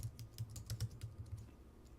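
Fingers type on a computer keyboard, producing soft, quick, irregular key clicks close by at low volume, with no talk.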